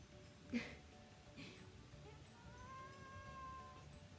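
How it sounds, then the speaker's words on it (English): A faint, quiet meow from a cat, one short call and a softer one after it, in a still room with a low background hum. "Why are you meowing at me?"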